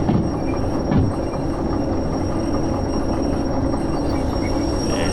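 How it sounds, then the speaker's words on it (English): Train rolling under handbrake in the railway simulator Derail Valley, a steady loud rumble of wheels and cars on track for the whole span with a brief squeal-like accent near the start, no voices. "I'll just get ready on the handbrake here to slow the train a bit"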